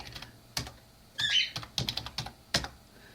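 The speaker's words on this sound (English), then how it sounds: "So I'm going to type in." Keys on a computer keyboard are struck in scattered taps and short quick runs, close and clear, with pauses between bursts.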